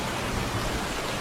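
Rain pours steadily in a short video clip of a mother bird sheltering her chicks under her wings, a dense, even hiss with no pauses and no speech.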